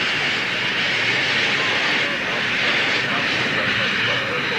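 A racing engine crossing the finish line at a 1981 race, heard as a loud, steady, broadband roar that fills the whole stretch without a break.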